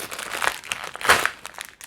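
Crinkly plastic wrapping of a packet of Nippon biscuits being torn and crumpled open, a close run of sharp rustling crackles with a few louder bursts over about two seconds.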